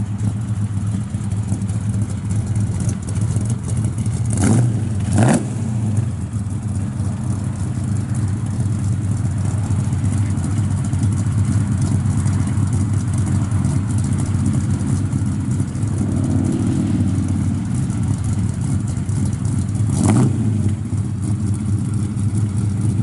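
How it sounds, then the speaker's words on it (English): A 1971 Chevrolet Nova SS 350 V8 idles steadily with a deep, rumbling exhaust note, and a few short blips of revving break through, loud and close. "Sounds real good out the exhaust."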